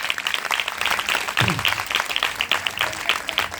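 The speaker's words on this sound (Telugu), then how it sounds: "చప్పట్లు కొట్టండి గట్టిగా" A gospel meeting congregation claps loudly and continuously, with brief voices mixed into the dense clapping.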